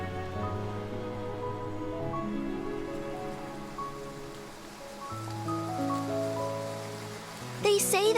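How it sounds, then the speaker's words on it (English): Steady rain patters in a scene from the video game Love and Deepspace, a soft, continuous hiss under gentle melodic music, with a brief bright chime near the end. "I can't imagine how strong that yearning must be if rain can fall here."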